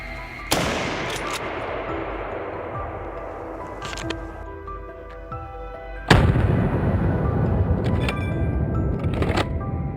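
Gunfire from hunters chasing wild boar in a forest and grassland: one sharp shot, a quieter report a few seconds later, then a second loud blast with a long rumbling tail over outdoor ambience.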